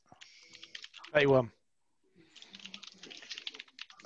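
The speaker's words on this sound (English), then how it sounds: "Someone has a loud keyboard." Loud computer keyboard typing on a Zoom call: bursts of rapid, sharp key clicks come before and after a short spoken word.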